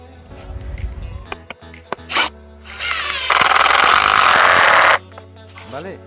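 A power drill with an 8 mm bit bores a hole for an ejotherm insulation anchor, running in one loud, steady burst of under two seconds, framed by clicks, handling knocks and a brief whine beforehand.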